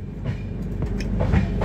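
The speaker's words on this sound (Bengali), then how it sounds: "আমাদের ট্রেন কানপুর স্টেশন ক্রস করে বেরিয়ে যাচ্ছে।" The 12313 Sealdah-New Delhi Rajdhani Express runs past Kanpur station. A steady, close rumble of rolling wheels and carriages is heard from inside the train, with faint rhythmic clatter over the rails and no talking.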